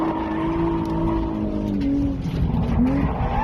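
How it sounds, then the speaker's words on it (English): A Nissan Z drifts on a track at Fernley, its engine droning steadily while the tires squeal in long, loud wavering screeches, heard close and continuous. "This was a pretty epic track day up in Fernley with the Z."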